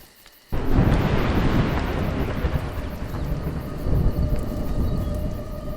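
Thunderstorm in the video game A Juggler's Tale, starting with a sudden loud thunder crack that rolls into steady heavy rain, with a dense continuous rumble that swells again later.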